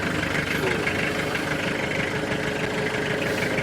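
A Daedong D500C tractor engine idles after starting, a steady close rumbling throb that holds level throughout with no voices over it.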